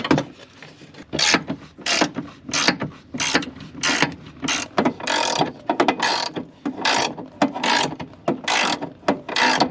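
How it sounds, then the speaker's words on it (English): A ratchet socket wrench with an extender loosens seat bolts in a Ford Econoline camper van, with loud, close, repeated ratcheting clicks in short rhythmic bursts separated by brief pauses, and no talking. "So I can't reach those just with the socket wrench itself. I'm gonna have to get an extender."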